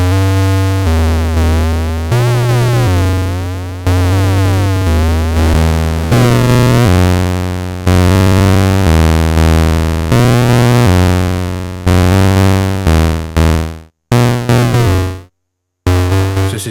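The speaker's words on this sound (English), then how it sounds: "This waveform is based on circuit bent toys" A harsh, buzzy synthesizer tone from a Mutable Instruments Braids module, using a circuit-bent-toy waveform with bit crushing, stepping through low notes with sweeping, gritty overtones, crunchy and distorted, cutting out abruptly near the end.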